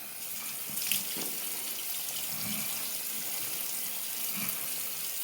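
Tap water runs steadily while hair is rinsed during a sulfate-free wash, a continuous close splashing stream with a few brief louder splashes.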